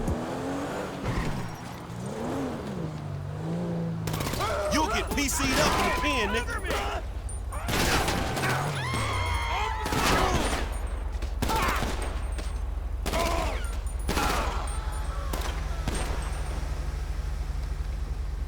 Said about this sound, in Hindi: लामार उन पे शूट करता रहेगा, यानी कि वो उन पे गोली चलाता रहेगा बेमतलब का